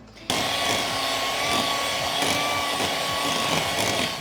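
A vintage early-1980s electric hand mixer starts up and runs steadily with a constant motor whine and faint beater rattle, close and fairly loud, with no talking.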